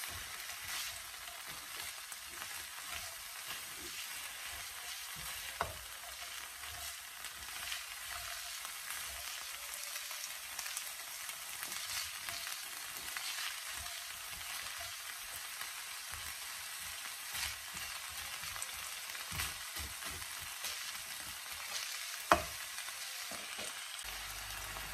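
Stir-fry in a pan with soy sauce and a prepared sauce mixture added, giving a soft, continuous hiss of frying with an occasional faint tap or scrape, quiet and without voices.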